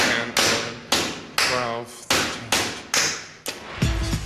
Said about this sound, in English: his hammering still has a long way to go